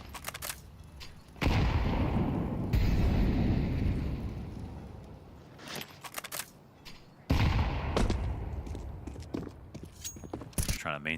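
AK rifle fire in a professional Counter-Strike match at BLAST Bounty Malta: loud, sharp bursts of gunshots and rapid volleys, with crowded game noise between the bursts.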